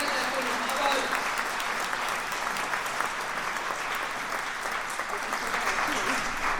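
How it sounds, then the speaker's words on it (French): A large audience at a political rally in Belfort, France applauds steadily, a dense, continuous wash of clapping at even volume throughout, with no voices standing out. "je vous demande d'applaudir tous ceux qui seront candidats aux municipales"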